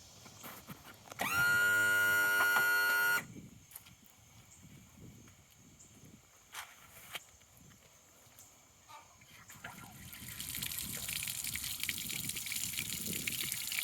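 Water runs through a Honda BF35/BF40/BF45 outboard motor. A loud, harsh droning burst comes first, then scattered knocks and handling noises, and a hissing water rush builds and holds toward the end.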